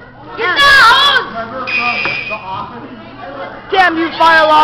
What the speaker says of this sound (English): Damn you, fire alarm!